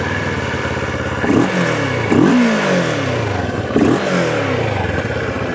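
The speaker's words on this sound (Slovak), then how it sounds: "Motor CF-ka si môžeme aj naštartovať." A CF Moto 650 MT motorcycle engine idles with a steady mechanical clatter, then is blipped through three sharp rising revs that fall back to idle, loud and close with no talk.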